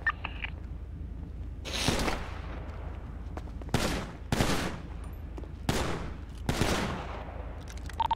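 Bursts of gunfire in a GTA roleplay shootout inside a clothing store: five or six loud broadband volleys spaced a second or so apart, each with a trailing decay, over a steady low rumble.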